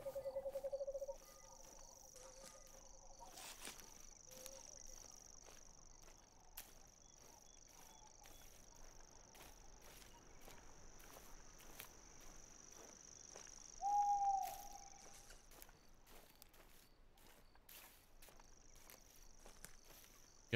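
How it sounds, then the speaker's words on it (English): Night-time nature ambience from theHunter: Call of the Wild, with a steady high cricket chirr running throughout beneath scattered soft rustles and footsteps, plus a couple of short bird-like calls near the start and midway. "Gotta say, these nature sounds are very realistic."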